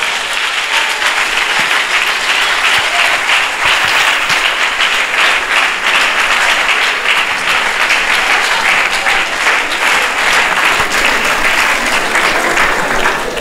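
An audience applauds at a conference debate at UNIKIN, dense and sustained clapping from many hands holding at an even, loud level for over thirteen seconds.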